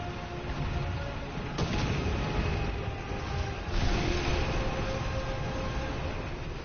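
Tank cannon fire in the Russian Armor war game, two heavy booming shots several seconds apart over a constant dense rumble of engines and battle noise, with no talk.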